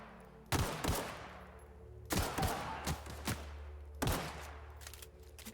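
Shotgun fire in The Outer Worlds video game, three separated loud blasts at a slow, uneven pace, each followed by smaller thuds and clatter over a low background hum.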